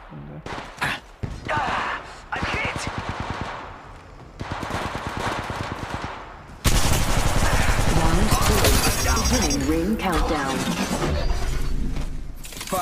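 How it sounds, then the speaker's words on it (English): Rapid automatic gunfire in the mobile game Apex Legends Mobile on the King Canyon map, loud stuttering bursts followed by a long, dense barrage, with a voice talking over parts of it. "Firing."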